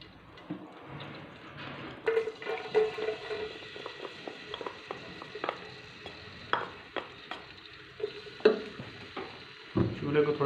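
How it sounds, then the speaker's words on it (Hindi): Soft continuous frying crackle of garlic in hot oil in a handi pot, with scattered pops and clinks of a utensil against the pot. "हांडी में हमने ऑयल डाल दिया है। अब इसके अंदर हम लहसुन डालेंगे।"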